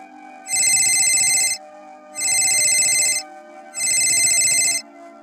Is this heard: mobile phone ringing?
yes